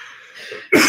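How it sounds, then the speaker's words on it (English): A single sharp cough bursts out near the end after quiet breathy sound, loud and close, from someone who drank water the wrong way. "my cough is just because I drank water wrong"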